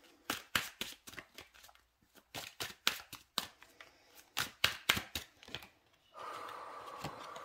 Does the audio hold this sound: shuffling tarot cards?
yes